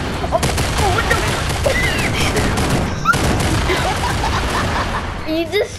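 Explosions of C4 charges in a video game go off in dense, overlapping bursts, loud booms and crackling blasts over a rumbling background, while voices talk and shout excitedly over the din.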